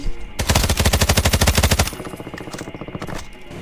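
Automatic gunfire in the mobile video game Call of Duty Mobile: a loud, rapid burst of evenly spaced shots, followed by quieter, more distant rattling fire.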